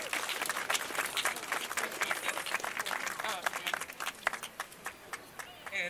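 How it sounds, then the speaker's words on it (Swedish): Audience at a Palestine solidarity rally in Sweden breaks into sustained applause, dense clapping filling the whole stretch with a crowd murmur beneath, steady and fairly loud throughout. "En applåd."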